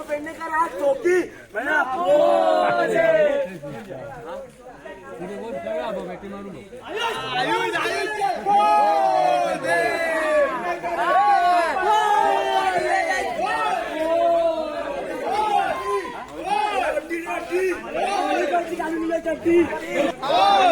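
A group of boys shouts and cheers at a village Holi gathering in Achara Hirlewadi, Konkan. Loud, overlapping voices and whoops surge and fall, with a brief quieter lull early on.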